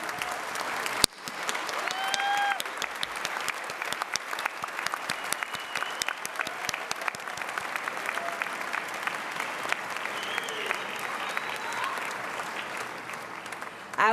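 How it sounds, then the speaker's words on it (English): At a 2014 afternoon commencement ceremony, a large audience gives the graduates sustained applause, a long even roar of clapping heard from within the hall, with a sharp knock near the start. "Would you stand up and give them applause first,"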